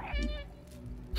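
A single short cat meow from the video game Stray, clear and close against quiet background sound.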